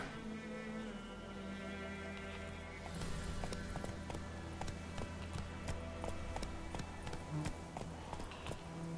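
Horse hooves gallop at a steady, rapid clip-clop rhythm in the Witcher 3 video game, close and fairly loud, with game music sustained underneath and a brief stretch of louder footfalls.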